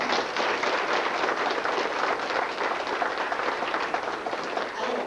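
An FFA audience gives a steady, dense round of applause, many hands clapping continuously at even loudness throughout with no break.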